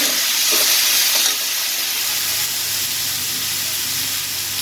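Chilli powder sautéing in a hot pan for spicy chicken gravy, a loud, steady, close hiss of frying oil that eases slightly after the first second.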